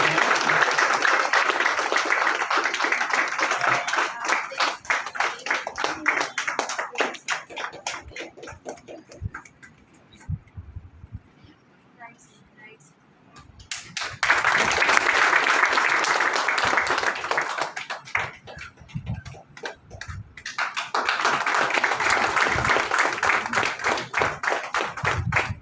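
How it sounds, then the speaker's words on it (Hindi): A crowd applauds at a ceremony honoring a police officer, with sustained loud clapping that fades to near quiet midway and then swells back to full strength twice. "तालियां बजती रहेंगी सभी।"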